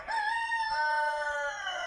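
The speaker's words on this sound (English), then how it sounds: "As the cock crows in the background" A rooster crows in a long, drawn-out cock-a-doodle-doo, clear and steady over faint background noise, heard without any talk beside a wall being built from a dark mud and pottery mixture.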